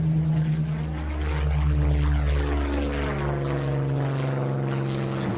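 Supermarine Spitfire with a Merlin engine, a Mk 2 or Mk 5, flying: a loud, steady propeller-engine drone with a strong low hum that holds without a break throughout.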